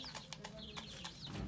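A hen pecking and scratching at millet, with soft clucks and small bird chirps close by amid faint rustling in a backyard coop of hens and pigeons.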